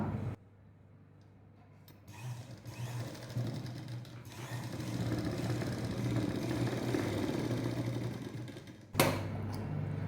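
A sewing machine stitches along the edge of a blouse in a steady, continuous mechanical whir that starts after a quiet moment and runs close and alone, with a brief clatter near the end.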